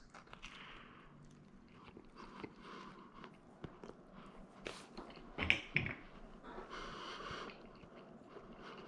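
Biting into and chewing a pizza baked in an Ooni Koda 12 oven, with a crisp crust: a couple of close, crunchy bites near the middle, then soft chewing over low room noise, with no talking.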